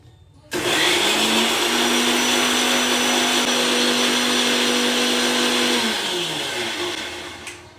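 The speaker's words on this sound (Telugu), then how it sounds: "మిక్సీ జార్లో వేసినవన్నీ ఒకసారి మెత్తగా మిక్సీ పడదాము" A mixer grinder whirs loudly and steadily for several seconds grinding bottle gourd bajji batter, a sustained motor hum with a grinding rattle, then winds down near the end.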